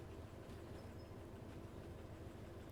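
Train cars rolling along rails in Derail Valley, a steady low rumble with faint rhythmic clatter, continuous and fairly quiet throughout.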